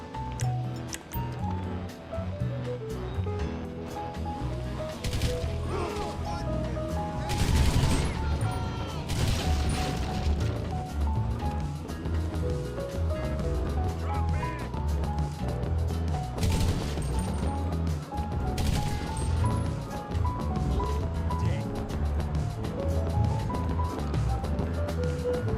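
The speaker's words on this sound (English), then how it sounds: "I have to destroy crates." Crates being smashed in Grand Theft Auto V, with repeated sharp cracks and crunching impacts scattered over a dense, busy game soundscape with music, loud and close for about twenty-five seconds.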